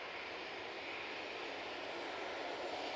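Airplane engine at Manchester Airport during a positioning flight, a steady, distant broadband roar that stays even and faint throughout, with no other sounds.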